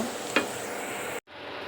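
Steady, loud sizzling of potato chips frying in hot oil, a dense crackling hiss that briefly cuts out near the end, then resumes.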